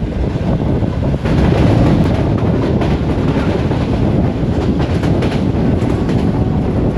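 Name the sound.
Shalimar Express train crossing Rahman Baba Express at station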